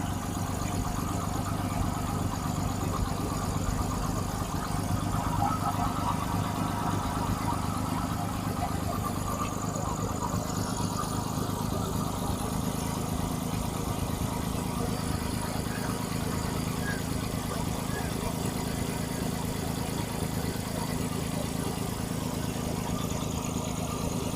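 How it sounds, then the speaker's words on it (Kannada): A used Hyundai Eon car's engine idling steadily with the hood open, a continuous even hum and rumble held at constant level throughout, close by and without talk over it. "ಇದು ಇಂಜಿನ್ ಸೌಂಡ್ ಆಗಿರುತ್ತೆ ಸ್ವಲ್ಪ ಕೇಳಿಸ್ಕೊಂಡ್ಬಿಡಿ"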